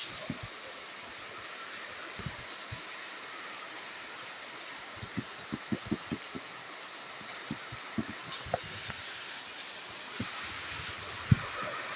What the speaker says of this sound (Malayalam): മഴ എനിക്കൊന്ന് കൂടിക്കൂടി വരുമായിരിക്കും